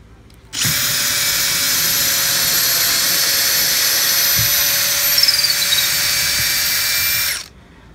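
A cordless drill driver set to drill mode whines steadily at high speed for about seven seconds, starting and stopping abruptly, loud and close with no other sound over it.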